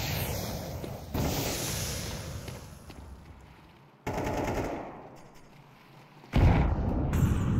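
Counter-Strike 2 gameplay: loud, sudden explosive bursts strike three times, each cutting in sharply and then fading into a hissing, ringing tail.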